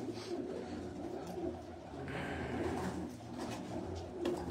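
Pigeons coo faintly in an outdoor pigeon-flying setting, soft repeated calls sitting under a steady bed of background noise, with no talk.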